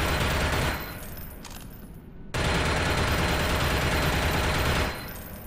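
Rapid automatic pistol gunfire from a video game, dense sustained bursts filling the clip with a brief lull in the middle, loud and continuous with no talk.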